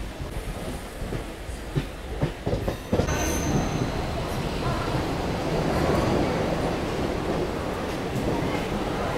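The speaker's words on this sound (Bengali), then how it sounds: "তো আমার ট্রেন ঢুকছে সাঁতরাগাছি জংশন রেলওয়ে স্টেশন" A local train on the Howrah–Digha line rumbles steadily into Santragachi Junction, with broadband rail noise, a brief high squeal of wheels, and a few sharp clanks early on as it rolls in.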